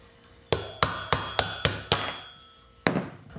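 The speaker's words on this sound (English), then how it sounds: "I bet you it'll just tap right on out." A punch driven with a hammer knocks a front or rear wheel bearing out of a Honda CB350–CB550 motorcycle: six quick metallic taps come in a steady rhythm, then one last tap after a pause, close and clear with no talking.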